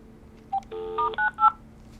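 Short sequence of distinct DTMF dial tones from a VTech CS6529-4B cordless phone being speed-dialed, several clean beeps in quick succession over a low steady hum, with no talking.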